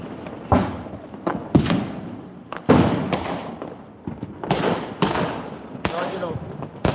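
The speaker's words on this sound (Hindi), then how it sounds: "ये देखो लो ओ एक और हवाई गई।" Several sharp Diwali firework bangs and crackling bursts as rockets launch and burst at irregular intervals, loud and nearby, with voices in the background between blasts.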